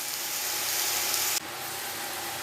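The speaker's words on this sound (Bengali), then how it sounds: "এবার এটাও ভালো করে কষিয়ে নেবো" Onion, tomato and spices sizzle steadily in oil in a pan, a dense continuous hiss that drops slightly in brightness partway through, with no talking.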